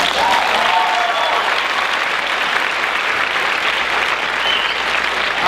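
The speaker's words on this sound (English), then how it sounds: "Someone's still clapping." Loud, continuous applause from a crowd after a poem at a spoken-word show at Funk Academy, a dense, even roar of clapping that holds steady for several seconds with a faint voice briefly underneath.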